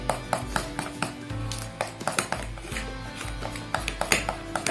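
Mini cake batter being mixed in a bowl, with a utensil clinking and scraping against the sides in quick, uneven taps and knocks, close and fairly loud.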